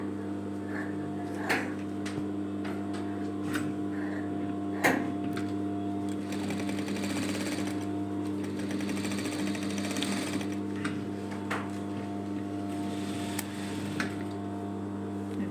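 A sewing machine stitches the collar onto a sweatshirt, a steady mechanical hum with a rapid needle rhythm running throughout, close and fairly quiet, with occasional small clicks and knocks from handling the fabric.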